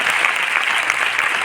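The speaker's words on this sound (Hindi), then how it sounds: "मेरे अपलाइन के लिए एक बार जोरदार तालियां बजा दीजिए" A seminar audience at a Vestige business meeting breaks into a short burst of loud, crowded applause.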